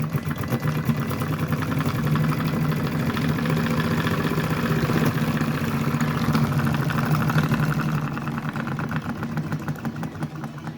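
A homemade solenoid engine drives a small car on a 4S battery, giving a fast, steady mechanical chatter with a low buzzing hum that runs continuously and eases slightly toward the end.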